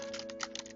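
A few soft, quick keystrokes on a computer keyboard while typing into a field in the Wink software, clicking irregularly over a steady faint hum.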